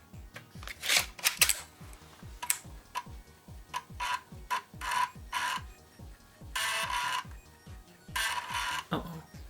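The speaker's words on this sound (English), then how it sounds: "so let's test the first floppy drive" An Amiga floppy drive in an A1200 tower clicks and ticks steadily under test, a rapid run of close, sharp mechanical clicks with intermittent louder bursts of head stepping and whirring.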